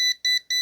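A Kaiweets brake fluid tester pen dipped in tap water sounds its alarm: three sharp, high electronic beeps in a quick, even rhythm, close and clear against silence.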